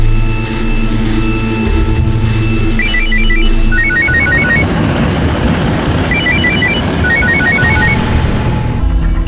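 Telephone ringing in repeated short electronic bursts over a busy street background with traffic noise, loud and close, no talking.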